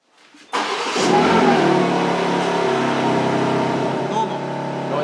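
A Ferrari 488 with no exhaust fitted revs loudly and steadily right up close, its engine roar rising sharply after a brief quiet start and holding a rough, sustained drone throughout.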